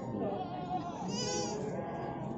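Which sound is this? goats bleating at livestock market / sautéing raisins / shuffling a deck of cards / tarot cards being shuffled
goats bleating at livestock market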